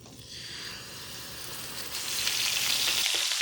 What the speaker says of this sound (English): Alright, now we gotta cook our beef.